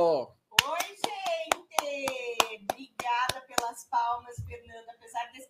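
Several sharp hand claps ring out in an irregular burst as people applaud during a Portuguese-language live stream, with voices talking over and between the claps.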